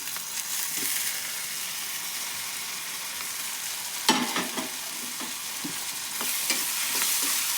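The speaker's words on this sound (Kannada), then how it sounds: "ಎಣ್ಣೆ ಒಳಗೆ ಫ್ರೈ ಆಗ್ಲಿರಿ ಇದು ಟೊಮೆಟೊ" Chopped tomato frying in hot oil in a pan for an egg dish, a steady close sizzle with a few stirring scrapes and clinks partway through.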